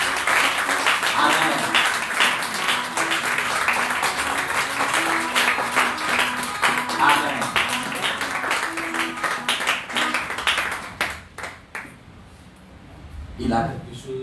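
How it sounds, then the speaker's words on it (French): A congregation at a thanksgiving church service claps and acclaims, a dense steady wash of clapping mixed with voices and cheering, fading out near the end. "Je voudrais qu'on acclame et qu'on honore un Père."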